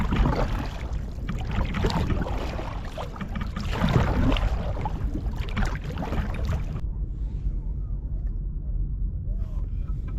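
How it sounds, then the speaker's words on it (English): Kayak paddling out at sea on a hot day while fishing, with rhythmic water splashes and swishes under rushing wind noise that drops away partway through, leaving quieter lapping water close by. "let's paddle out a bit further"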